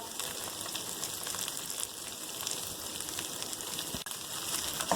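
Okra (bhindi) fries steadily in a pan, a continuous dense sizzle and crackle that holds at an even level throughout, close and alone without any voices.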